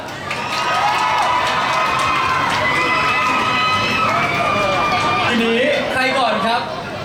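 A crowd at a launch event for mineral water in recycled-plastic bottles cheers loudly and claps for Pon, sustained shouting and applause with voices calling out over it, fading near the end.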